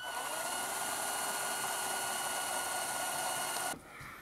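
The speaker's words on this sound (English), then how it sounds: "going to go ahead and drill out this little guy here" A steady high-pitched drill whine runs continuously for several seconds close by while drilling out a small part on a Volkswagen, then cuts off abruptly near the end.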